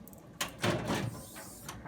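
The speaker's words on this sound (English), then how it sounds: "Open the upper door" The upper door of an SSBT self-service unit swings open with a latch click, then a longer scraping, rattling movement of the panel and a light tap afterward, heard close with no voices.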